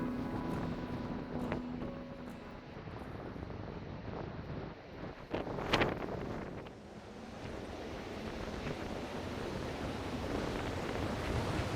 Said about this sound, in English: the wind begins to pick up